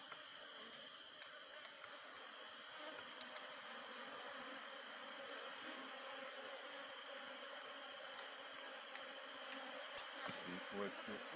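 Honeybees buzz steadily in a dense, continuous drone around a beehive with ants present, the swarm sound close and unbroken throughout.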